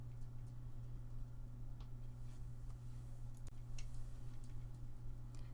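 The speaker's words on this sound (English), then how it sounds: "That scratching and ticking sound that you're hearing, I have my hermit crabs are on my desk next to me" Hermit crabs in a tank on a desk make faint, sparse scratchy ticks and clicks at irregular intervals over a quiet, steady low hum, with no voices.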